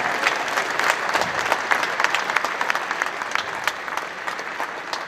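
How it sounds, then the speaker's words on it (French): Audience applause for a car club at a classic car show prize ceremony, a sustained crisp round of clapping at moderate distance with no talk over it. "Donc ils méritent une deuxième salve d'applaudissements"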